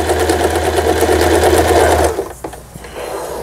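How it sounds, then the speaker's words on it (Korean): An older Lion 1012 home sewing machine runs an overlock stitch with a rapid, steady mechanical whirr and needle chatter for about two seconds, then stops abruptly, leaving a few faint handling clicks. "요 오버록 스티치까지 이제 성공적으로 박음질이 돼서 나오고 있습니다."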